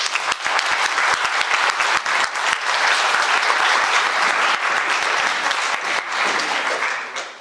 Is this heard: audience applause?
yes